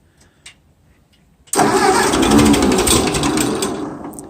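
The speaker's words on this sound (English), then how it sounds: "we're gonna do another cold start" A 1948 Ford 8N antique farm tractor engine on a cold start, with an exhaust leak: a couple of faint clicks, then the engine catches sharply and runs loud with a rough, rapid chugging close by.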